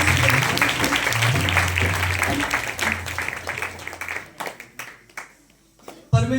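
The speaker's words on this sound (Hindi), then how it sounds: "प्रभु यीशु मसीह जी के लिए जोरदार ताली" A congregation at a Christian gathering in praise of Jesus Christ applauds loudly with a dense wash of clapping that thins into scattered claps. Voices and a low hum run under it.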